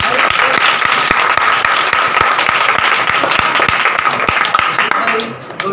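A church audience gives a loud, sustained round of applause, dense clapping from many hands close by that fades slightly toward the end.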